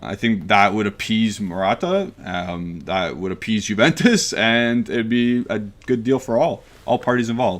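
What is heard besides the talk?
No distinct noise like a dog, phone or traffic.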